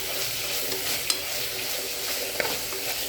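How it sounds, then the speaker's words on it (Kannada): Whole peppercorns, spices and biryani masala fry in hot oil for a soya biryani, giving a steady close crackling sizzle with occasional scrapes of a stirring spoon. "ಇದು ಕೂಡ ಚೆನ್ನಾಗಿ ಫ್ರೈ ಆಗಲಿ ಸ್ವಲ್ಪ ಹೊತ್ತು."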